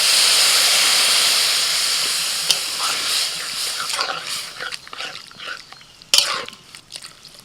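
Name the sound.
water poured into hot pan with oats and vegetables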